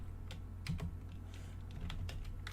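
Computer keyboard typing while entering Python code, a quick run of light key clicks in small irregular bursts over a faint low hum, heard close and quiet with no talking.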